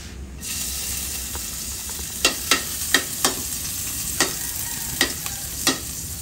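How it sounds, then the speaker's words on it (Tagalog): Onions sauté in a hot pan with a continuous loud sizzle, and a series of sharp scraping stirs from a spatula cuts through it at irregular intervals, with no voices. "So naggisa na tayo ng sibuyas"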